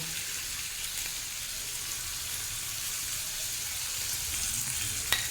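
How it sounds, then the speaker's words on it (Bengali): Onions sizzle and crackle steadily in a hot pan over high flame, a continuous frying hiss with a faint clink near the end. "পেঁয়াজটাকে একটু ভাজা ভাজা করে নেব"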